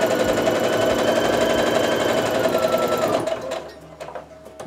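A sewing machine stitches a quarter-inch quilt seam, running as a fast loud steady mechanical chatter for about three seconds before stopping, followed by a few faint clicks.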